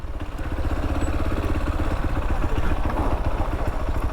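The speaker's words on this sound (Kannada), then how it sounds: "ಈ ಬೈಕ್ ಪಾರ್ಕ್ ಮಾಡಿ" A motorbike engine runs nearby with a steady, throbbing mid-pitched chug and a slight mechanical clatter, loud and unbroken, with no voices.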